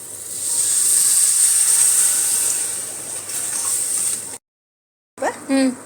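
Tamarind water poured into a hot, oily brinjal curry sets off a loud, steady sizzling hiss that lasts about four seconds, then cuts out. A voice follows briefly after a pause.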